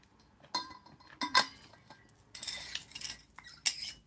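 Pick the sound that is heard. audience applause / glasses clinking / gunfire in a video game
glasses clinking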